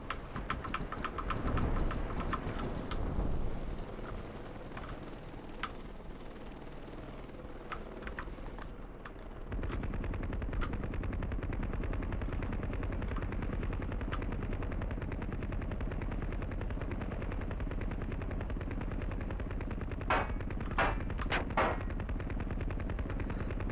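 Rapid bursts of machine-gun fire crackle around a helicopter in the combat game Heliborne, clattering in quick rattling runs over a steady rotor drone, some volleys near and sharp, others fainter, with no talk.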